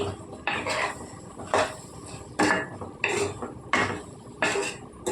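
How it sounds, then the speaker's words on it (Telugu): A spoon scrapes and clanks against a pot while brinjal and potato curry is stirred with salt and turmeric, regular metallic strokes repeating about every second, loud and close. "ఉప్పు పసుపు బాగా కలిసేలా కలుపుకుందాం కలుపుకొని మూత పెట్టి మగ్గించుకోవాలండి"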